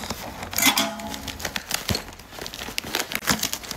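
Close-up crinkling and rustling of parcel packaging mixed with sharp scissor snips and tearing noises, coming in quick irregular bursts.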